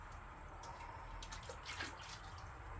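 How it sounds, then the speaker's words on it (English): Tap water runs steadily into a container of clay slop being reclaimed, a quiet continuous trickle with faint drips and splashes. "Turn the water off because it's getting quite full"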